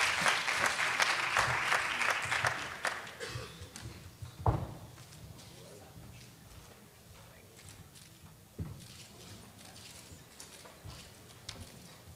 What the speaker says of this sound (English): Give Walter a round of applause, and thank you, Walter, so much.